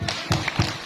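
Children clap out a rhythmic Tepuk Nabi chant at a school Maulid Nabi celebration, three sharp, close claps spaced evenly within a second.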